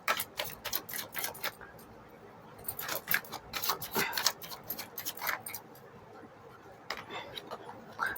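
Tarot cards riffle and snap as they are shuffled by hand, a series of quick, close papery flutters in bursts, fairly soft, with brief pauses between them.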